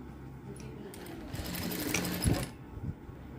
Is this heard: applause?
no